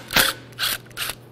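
A ratchet on a socket wrench clicks on bolts of a small-block Chevy 350 engine during a teardown, three short close bursts of rapid metallic ratcheting with brief pauses between.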